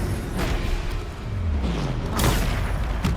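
A Descendo spell slams down in Hogwarts Legacy, a heavy booming impact with a deep rumble and a couple of sharp whooshing hits, loud and close.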